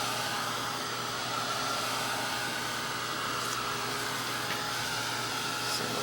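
A hair dryer blows a steady, unbroken whoosh over wet acrylic paint, close and fairly quiet, running alone for several seconds.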